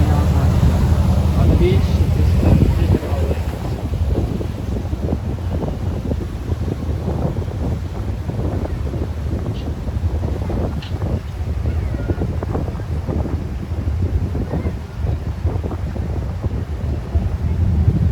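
Strong wind buffeting the microphone at a lakeside beach, loud gusty rumble throughout with a hint of waves behind it, and people talking over the wind.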